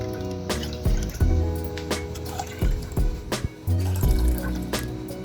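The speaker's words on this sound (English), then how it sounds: "Add about 4 cups of water." Water pours into a pot of sugar for rasgulla syrup, splashing and trickling in uneven bursts with short pauses, close by and alone.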